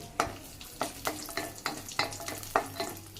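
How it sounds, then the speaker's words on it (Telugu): Raisins fry in a pan for semiya kesari, a soft sizzle under rhythmic stirring scrapes that come roughly every half second, close and fairly quiet. "నెక్స్ట్ కిస్మిస్ ఇవన్నీ లైట్ బ్రౌన్ కలర్ వచ్చేవరకు ఫ్రై చేసుకుందాం"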